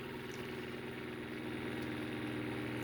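A 3D-printed pulse motor rotor, a heavy flywheel floating on a magnet bearing, spins with a faint, steady pulsing hum that holds even throughout.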